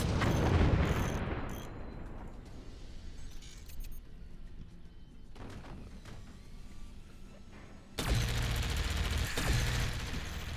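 Cannon shots and explosions in the video game Forts: a loud blast at the start decays into rumbling debris, with scattered impacts and another heavy burst near the end.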